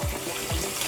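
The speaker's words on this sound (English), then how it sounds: "I'm going to run that under the sink for a bit" Tap water runs from a kitchen sink over rice being rinsed, a steady close gush with a couple of brief surging splashes and no voices.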